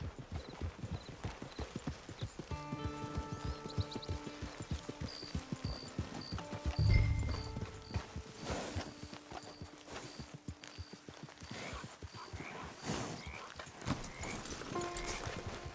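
Horse hooves clip-clop steadily at a walk in the video game Red Dead Online, close and clear over soft ambient game sound, with a brief snort and some faint background tones.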